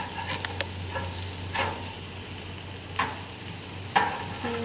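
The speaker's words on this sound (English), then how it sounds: "Now we're going to flip the burgers" Burgers cooking on an outdoor grill, a low steady sizzle under a faint constant hum, with a few separate scraping clicks of a spatula spaced a second or so apart as the patties are flipped, no voices.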